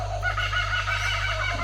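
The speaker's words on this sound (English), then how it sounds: "The kookaburras have decided to go off." Kookaburras calling in the distance, a continuous wavering chorus of cackling cries over a steady low background hum.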